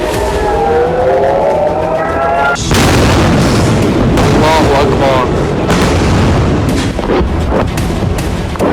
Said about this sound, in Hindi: बेहिसाब बारूद बरसा, सीरियल ब्लास्ट हुए